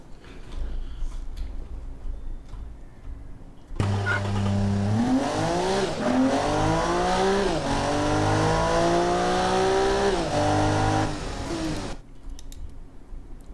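A race car laps a test track in the racing-sim game Automation, its engine note loud and steady as it climbs and dips through repeated up- and downshifts over about eight seconds before cutting off abruptly.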